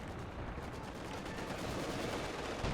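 Machine gun fire in Company of Heroes 2 rattles as a dense, steady stream of shots over heavy battle rumble, moderately loud and continuous.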